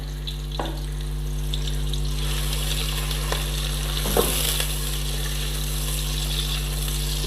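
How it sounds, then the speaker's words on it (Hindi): Onions browning in a pan over medium-low heat, a soft, steady sizzle with a few faint stirring clicks, over a constant low electrical hum and no voices. "इसको मैं प्याज को ब्राउन कर लेती हूँ हल्की आंच पे।"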